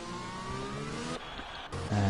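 A Williams Mercedes Formula 1 car in a racing video game holds a high, steady engine whine on a flying lap toward turns 1 and 2, with a brief dip before the tone steps down as it shifts.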